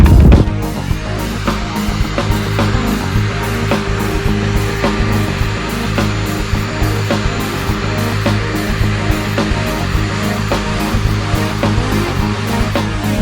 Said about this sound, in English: get back to my shop vac just to get that extra dirt, dust, stuff out of here